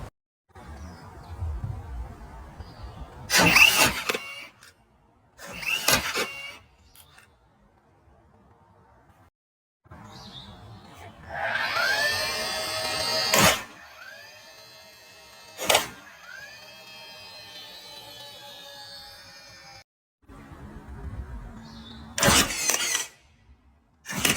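A nail gun drives nails into a fresh piece of wood, with several loud, sharp separate shots spaced across the span and quieter mechanical whirring and clatter between them, close up.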